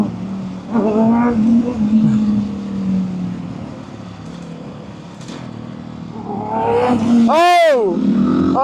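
A motorcycle revs hard during a wheelie attempt, its engine rising and falling in loud bursts, with a sharp high-pitched sweep near the end, amid excited shouting from people nearby.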